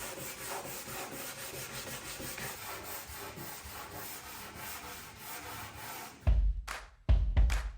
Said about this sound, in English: We'll use that as our sanding block, and that'll make sure that we're getting the area we want sanded nice and flat.